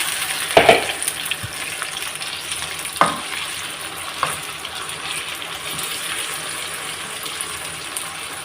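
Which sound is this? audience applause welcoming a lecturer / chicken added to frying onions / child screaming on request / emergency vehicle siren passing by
chicken added to frying onions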